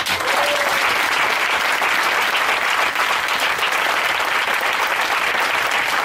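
A church congregation at a Sunday service breaks into loud, steady applause that fills the room evenly from start to finish, with a few cheers mixed into the dense clapping.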